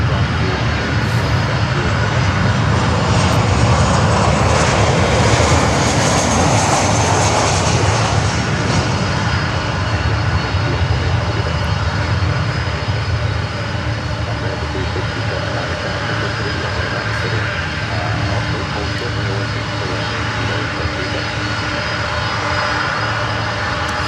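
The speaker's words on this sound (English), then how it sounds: "just that sound of these 4 CF6 engines, it is absolutely gorgeous." A Martinair Cargo Boeing 747 with four CF6 jet engines rumbles past at an airport in Miami, a loud, sustained roar that builds and then holds steady, with faint talk beneath it.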